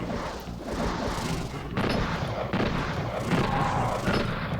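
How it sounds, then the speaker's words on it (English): Enemies in the video game Mayhem Mansion fire ice anvils, producing a dense, continuous run of booming, gunfire-like shots and impacts at moderate loudness. "They shoot the ice anvils."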